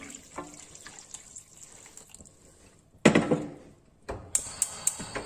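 Water splashes and pours from a tap into a pot of mutton for yakhni soup, starting with faint trickles and then heavier close splashing bursts, with no voices.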